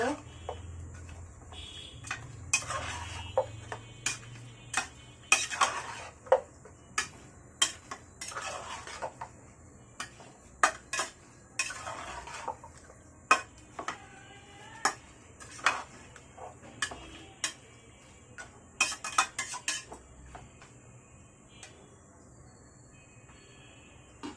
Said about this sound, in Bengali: এখন আমি সব উপকরণগুলোকে একত্রে নেড়ে মিশিয়ে নিব